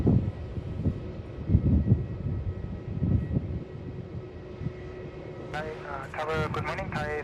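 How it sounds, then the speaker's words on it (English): A Garuda airliner taxis at Melbourne Airport, heard as a low, uneven engine rumble at a distance with some wind buffeting, before a voice starts talking over the fainter hum. "So that's Tyreways and Garuda taxiing up Victor Alpha."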